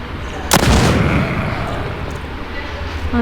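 A grenade goes off in a video game as a single sharp, loud blast that fades into a rumbling tail over constant background game noise.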